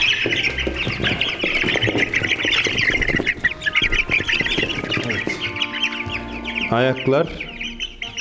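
Several young Bresse chickens cluck and squawk close by in a busy, overlapping chorus, with a person speaking briefly over the birds.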